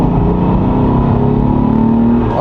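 A Ford Mondeo ST with a V6 engine accelerating from low revs in fifth gear, a loud, steady, deep engine drone heard from inside the car, with no talk.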